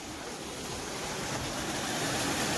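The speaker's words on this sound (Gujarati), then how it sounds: "પેલો જરી નજીકથી ધોધ બતાડું." A forest waterfall rushes in a steady, even roar heard from fairly close, with no pauses across the short stretch.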